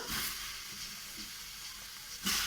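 Tomatoes cooking in a dry wok over a gas flame give a steady soft sizzle and hiss, with a louder burst near the end as they are stirred.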